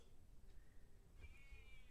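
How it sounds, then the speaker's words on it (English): A cat meows faintly from outside, wanting to come in, a couple of soft high calls under a steady room hiss and low background rumble. "Cat wants to come in."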